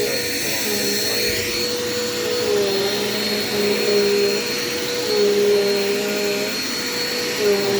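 A Dirt Devil Quick Power vacuum cleaner runs on carpet with a loud, steady motor whine and airflow roar, its pitch wavering slightly as it is pushed along, continuous and close throughout.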